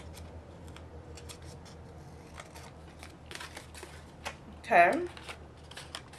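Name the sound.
scissors trimming excess paper off a card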